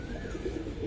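A female Giribaz pigeon at a market coos softly amid the low, muffled murmur of a busy background during a brief moment.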